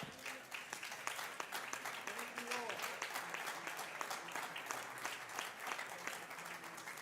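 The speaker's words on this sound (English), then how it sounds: "let's just give the Lord a hand clap of praise this morning" A church congregation claps hands in praise during a Sunday morning service, a faint, sustained patter of many hands with sharp individual claps standing out and some voices mixed in.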